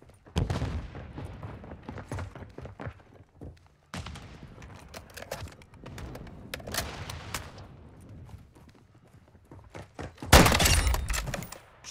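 Bursts of gunfire and a grenade blast ring out in Call of Duty: Modern Warfare II multiplayer, with sharp shots and impacts, a pause, then a loud explosion near the end.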